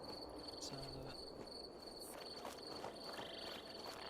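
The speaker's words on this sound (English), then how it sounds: "Oh no, those crickets." Crickets chirping steadily in the video game Fallout 4, a faint continuous chorus with a few soft thuds beneath it.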